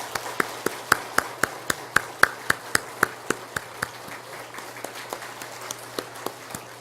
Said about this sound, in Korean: 우리 새신랑 신부가 여러분께 인사드릴 때 큰 박수로 한번 축복해 주시기 바랍니다